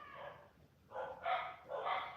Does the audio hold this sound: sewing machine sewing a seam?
no